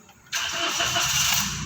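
A Toyota Wigo with a check-engine warning starts up: a brief crank and then a sudden, steady engine roar that holds loud and close from about a third of a second onward, with no talk.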